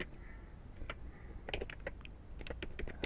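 Keys clacking on a computer keyboard as C# code is typed, with irregular clicks that quicken into a faster run of close taps.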